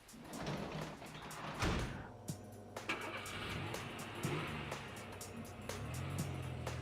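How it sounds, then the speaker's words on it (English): Persona 4 game scene: a low car engine idling outside, then a door sliding and shutting with a solid thud, followed by a quieter muffled engine hum and a few soft knocks. "we can hear the car outside, but not the rain after he closes the door"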